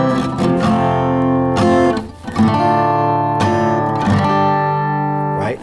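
Strummed guitar chords move through a basic 1-4-2-5 progression, each chord ringing out for about a second before the next, played alone and up close.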